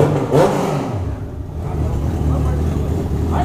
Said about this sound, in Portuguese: Olha o escape, mano.